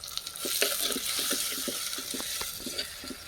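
Tomato and vegetables sautéing in a pan for a home-style Tamil prawn curry, with a steady sizzle and repeated stirring scrapes running throughout, close and moderately loud with no talk.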